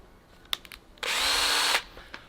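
A power drill whirs loudly for under a second while drilling out rivets during a Ford Transit Connect van conversion, preceded and followed by a few light clicks and knocks.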